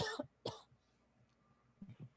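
Two sharp coughs close together, loud and near, followed by a short lull and a brief low murmur of a voice.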